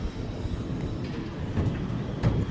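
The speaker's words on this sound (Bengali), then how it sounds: "এই তো মালগাড়ি যাচ্ছে আমাদের, এই যাচ্ছে রেলে রেলে" A freight train rolls past on the rails, a continuous low rumble with faint rhythmic wheel clacks at moderate distance.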